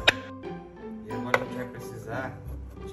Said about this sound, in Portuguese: Você vai cortar a cebola aí.